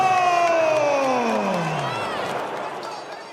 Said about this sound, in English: The crowd roars like thunder as two forces from completely different worlds step into the same spotlight.